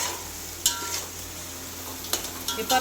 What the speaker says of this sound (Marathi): हा जो मसाला आहे हा कमीत कमी पाच ते सात मिनटं फ्राय करायचा आहे